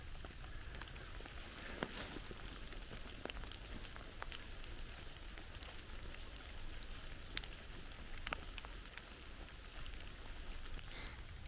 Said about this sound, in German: Es regnet wie Sau, ich muss eigentlich zurück